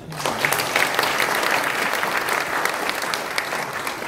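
An audience at a church general assembly applauds steadily, a dense, even wash of many hands clapping at moderate loudness that holds for several seconds before easing slightly.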